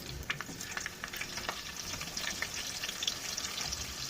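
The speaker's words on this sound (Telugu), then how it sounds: "పచ్చిమిర్చి ఉల్లిగడ్డ మంచిగా లైట్ బ్రౌన్ వచ్చేదానికి ఫ్రై చేసుకోవాలి" Finely chopped onion, green chillies, cardamom, cloves and cumin fry in oil toward light brown for a coconut milk chicken curry, a soft, steady crackling sizzle with small irregular pops.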